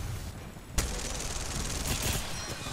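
Sustained gunfire from Apex Legends, a sharp onset followed by dense, continuous bursts of shots at close range with no talk.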